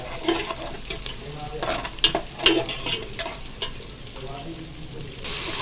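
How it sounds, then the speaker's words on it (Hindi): Grated onions frying golden in ghee in a pan while a pressure cooker runs nearby, with moderate sizzling and occasional stirring scrapes and clinks, fairly close and without talk. "यहाँ पे हम प्याज गोल्डन करेंगे।"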